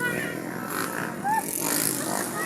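Motocross motorcycles race at a track in Talaingod near Kapalong, their engines whining and buzzing at a distance as a broad roar carries steadily beneath people talking nearby.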